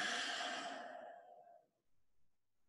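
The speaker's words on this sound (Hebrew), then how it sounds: "תנשמו נשימה אחת עמוקה" A single deep, slow breath taken during a guided children's meditation, a soft airy exhale that fades out over a couple of seconds into near silence.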